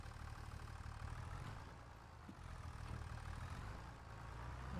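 A farm tractor engine idles in Farming Simulator 25, giving a steady low, droning rumble that holds evenly throughout with no voices.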